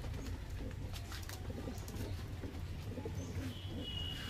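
Pigeons coo softly in a home loft of Nazra Kaldum pigeons, low steady murmuring with faint bird chirps over a constant background hum, no talking.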